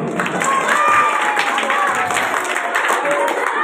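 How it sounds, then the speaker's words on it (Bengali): Students clapping at a high school annual programme, a continuous dense patter of applause from a crowd filling the hall, with a voice speaking over it through a loudspeaker. "ছেলেরা হাততালি দাও।"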